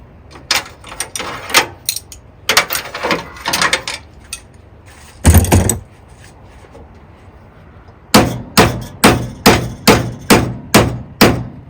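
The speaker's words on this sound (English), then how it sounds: "I'm gonna hit it with a hammer." Sharp metallic hammer blows on a Jeep Cherokee XJ fan clutch: scattered strikes, a pause, then a steady run of about eight evenly spaced loud clanks.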